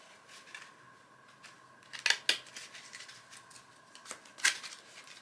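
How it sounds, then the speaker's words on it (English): Ticket to Ride: Europe train cards being shuffled, heard as a few short, crisp papery riffles in quick bursts close by over a quiet room background, with no talking. "The cards must be shuffled thoroughly, since they will usually have been discarded in sets."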